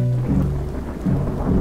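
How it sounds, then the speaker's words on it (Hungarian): Distant thunder rolls across the far shore from the Bolivian side of the border in Peru, a low, continuous rumble lasting under two seconds with no voices. "Közben a túlpart felől a bolíviai oldalról mennydörgés hangja hallatszott."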